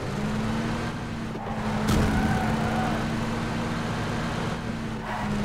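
A dirt bike in PUBG runs with a steady, noisy engine drone throughout, close and fairly loud, with a sharp knock partway through and no voices.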